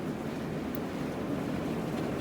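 Heavy rain drums steadily on a studio roof, a dense broadband roar that holds constant throughout, with no voices.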